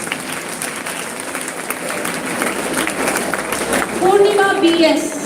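A college day audience applauds award-winning students, steady crowd clapping throughout that grows louder toward the end, with voices audible beneath it.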